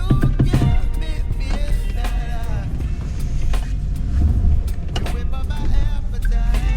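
A 1991 Mercedes 560SE W126 luxury sedan is driving. A continuous low rumble of engine and road noise plays with a few brief knocks and bumps, heard from inside the car.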